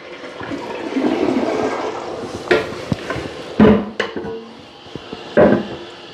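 An old toilet being flushed with its handle held down, a draining water rush fading out, followed by several sharp clunks and knocks from the tank hardware, close and with no voices.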